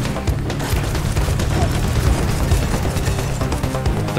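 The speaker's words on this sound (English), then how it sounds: "Throw coffee and grenades at everything." Grenade blasts go off in the video game Voidigo as dense, overlapping booms and gunfire-like bursts that fill the whole stretch at high volume, with no pause between them.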